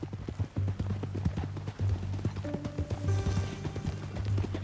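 Horse hooves clip-clopping at a steady walking pace in the Western video game Red Dead Redemption 2, close and clear, with a tonal hum of game ambience underneath and a brief rising tone near the end.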